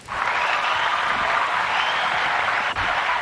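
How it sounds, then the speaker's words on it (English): A crowd claps and cheers in a sustained burst of applause, loud and even throughout, with no speech over it. "A round of applause."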